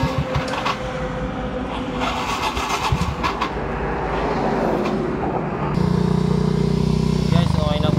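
A Yamaha Mio i125 scooter, just fitted with a new bearing and exhaust, is cranked with a rattling starter. It then fires into a close, steady idle, and a voice speaks briefly near the start.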